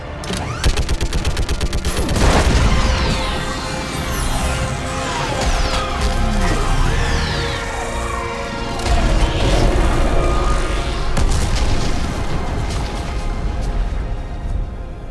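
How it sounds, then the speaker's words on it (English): Orbital strike explosions and gunfire in the Mass Effect Legendary Edition video game: loud booms and crashing blasts mixed with rapid bursts of weapon fire, dense and continuous for the whole stretch, with no voices. "I need an orbital strike. We're clear. Fire at will."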